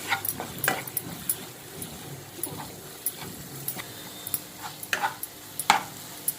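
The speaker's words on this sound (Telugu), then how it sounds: "కొంచెం ధనియాల పౌడరు వేసి ఒకసారి ఇలా కలుపుకుందాం" Coriander powder is stirred into a curry in a pan, a soft scraping and clicking of the spoon repeating unevenly under a faint background sizzle, close and fairly quiet.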